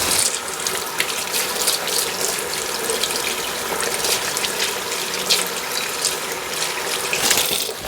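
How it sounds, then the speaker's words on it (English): Tap water runs steadily over hands at a kitchen sink while cooking Scotch eggs, a continuous close hiss and splash with no talk. "So now I need to wash my hands."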